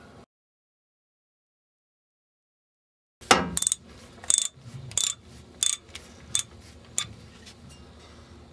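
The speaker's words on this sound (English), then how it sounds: "Next, I'm going to remove this stud." A ratchet turns out a stud on a 1998 Dodge Ram 1500 brake line bracket: after silence, a run of sharp, close metallic clicks comes in several quick bursts with short pauses between them.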